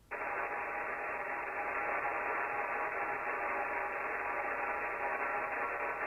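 Steady broadband hiss of 2-meter VHF receiver noise, raised by a nearby contest station transmitting, filling the band evenly and continuously at a loud level with no talk or break.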